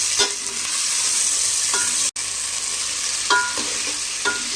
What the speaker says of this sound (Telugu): ఇందులో మనము టమాటా ముక్కలు, పచ్చిమిరపకాయ ముక్కలు కూడా యాడ్ చేసుకొని ఒక 2 మినిట్స్ వరకు ఫ్రై చేసుకుందాం